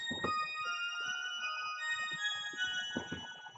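A soft synth pad with a lowered attack and no effects swells gently into sustained tones, with quiet low thumps and textures moving underneath.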